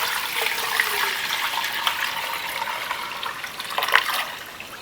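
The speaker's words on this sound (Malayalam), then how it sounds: "4 ലിറ്റർ പാല് വാങ്ങിച്ചിട്ടുണ്ട്. ഒഴിച്ചു കൊടുക്കുന്നുണ്ട്." Four liters of milk poured at home into a heavy-bottomed pot for making traditional ghee, a steady close liquid splash and trickle that runs for several seconds with no talking.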